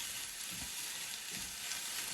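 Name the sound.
leeks and spinach sizzling in a frying pan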